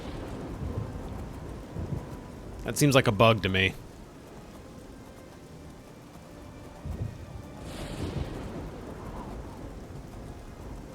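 Rain and thunder ambience in the video game Oblivion, a steady wash of rain with a sharp crackling thunder burst, under a person talking over it.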